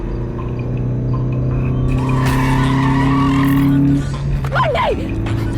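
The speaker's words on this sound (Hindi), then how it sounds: "बंटी, गाड़ी साइड में रोको।" A car speeds along a road with a loud, steady engine roar and a rising tire squeal that breaks off sharply, followed by a brief cry from a voice near the end.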